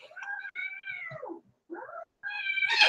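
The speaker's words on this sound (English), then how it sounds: "cat in the background" A cat meows several times in short, drawn-out cries with brief pauses between them, clear and fairly close, with the last meow rising louder.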